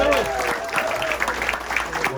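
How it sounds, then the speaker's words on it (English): Short burst of applause from a lecture audience welcoming the guest speaker, moderately loud and blended with crowd noise and some voices. "about a round of applause"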